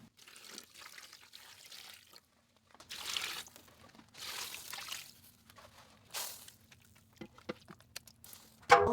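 Water pours and trickles into a roasting pan holding broth scraps, coming in several separate bursts with quiet gaps between them, close and fairly soft.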